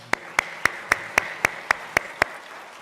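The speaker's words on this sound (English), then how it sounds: "I am first going to ask if we could give our students a round of applause" At an opening meeting, nine sharp, evenly spaced claps ring out in a steady rhythm, crisp and close over a low room hum, for students.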